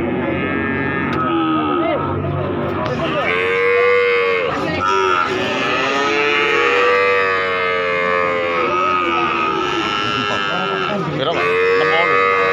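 Cattle moo several times, long drawn-out calls one after another, loud and close, over a faint background murmur.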